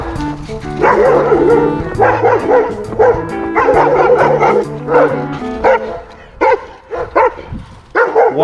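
A dog barks loudly and repeatedly on a village street, with bursts of bow-wow barking and yips in steady runs, then sharper isolated barks toward the end; a German shepherd is nearby.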